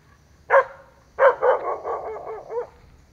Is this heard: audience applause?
no